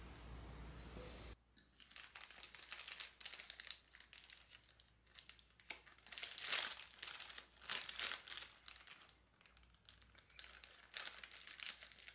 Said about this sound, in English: And another Ziploc bag, we're gonna put our chocolate pudding in here.